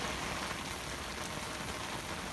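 Rainwater sheets off a house and runs in a wide stream down a yard, a dense constant hiss and rush of falling and flowing water, close and unbroken throughout.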